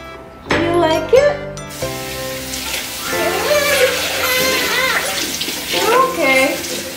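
Water running from a kitchen tap to rinse a baby food container, a steady splashing gush after a brief start, with a person talking over it and a voice.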